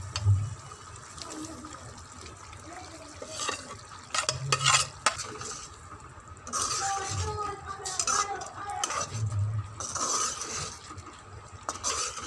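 Potatoes added to a pan of frying masala for dahi aloo are stirred with a spoon, giving soft scraping and sizzling bursts at irregular intervals, fairly quiet and close.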